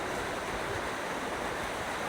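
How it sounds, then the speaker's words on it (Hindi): Heavy rain pouring down outdoors in Japan, a steady dense wash of falling water that fills the whole clip at constant loudness with no voices. "बहुत ज़्यादा पानी पड़ रहा है"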